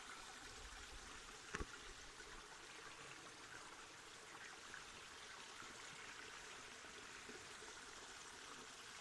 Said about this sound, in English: The little streams,